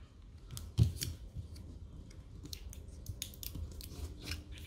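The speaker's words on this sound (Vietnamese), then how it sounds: "Chúng ta sẽ sử dụng cái băng keo đó các bạn, dán để bảo vệ cái phần tiếp xúc ở đây vào." Adhesive tape is snipped with scissors and pressed over a contact on a repaired 21V Makita battery, a sharp cut near the start followed by soft crinkly handling clicks, close and quiet, with no talking.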